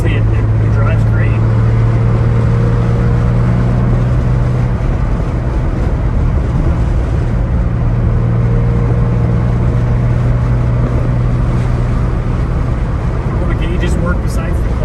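A 1970 Porsche 911T drives along steadily, its engine holding a loud, continuous low drone with road and wind noise throughout, no distinct revving, while someone talks over it.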